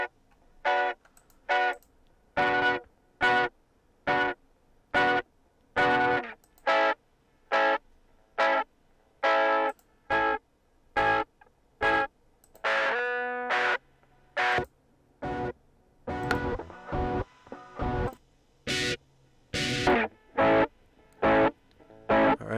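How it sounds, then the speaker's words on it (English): Electric guitar run through a Bitwig Studio stock distortion preset shaped toward mids and highs, playing a rhythmic pattern of short, evenly spaced gritty chord stabs separated by brief silences, with a few longer sustained notes near the end. "I selected the low distortion, but I ended up tweaking it around and pretty much turned it into a mids and highs distortion."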